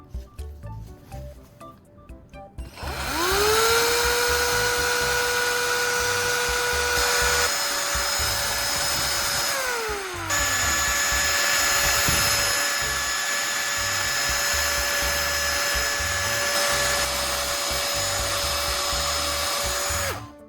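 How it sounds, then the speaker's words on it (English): A drill-powered mixer whines loudly as it stirs a blend of ethanol, engine oil and PVA glue, spinning up after a quiet start, dipping pitch midway, then holding a steady high motor drone to the end. "I'll continue stirring the mixture thoroughly with a drill-powered mixer"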